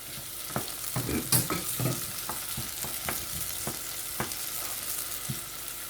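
Chopped tomato cooking in a pan for chickpea curry makes a soft, steady sizzle, with spaced spoon clinks and stirring taps over several seconds, fairly quiet and without speech.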